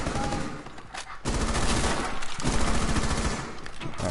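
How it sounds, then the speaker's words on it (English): Sustained automatic gunfire laying down cover fire in Rainbow Six Siege: loud, dense rapid bursts with brief gaps, rattling close and continuous over several seconds. "trying to lay down some cover fire there"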